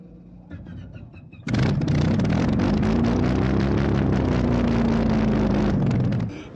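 A Messerschmitt Me-109 fighter with its original Daimler-Benz engine, at an airfield flying day. Quieter background leads into a loud, sustained engine roar with a gently shifting pitch that holds for several seconds before dropping off.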